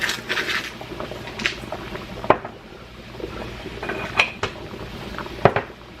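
A spoon clanks against a metal pot while linguine is stirred in salted boiling water, with a few sharp knocks and softer scraping over a steady low background, no voices.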